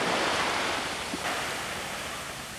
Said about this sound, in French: C'est vrai que les vagues tapaient fort et certaines passaient au-dessus du bateau.